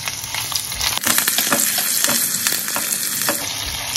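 Whole red chillies, curry leaves and green chillies sizzle steadily in hot oil, with scattered stirring scrapes and pops running continuously at close range.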